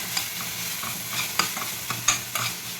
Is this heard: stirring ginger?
yes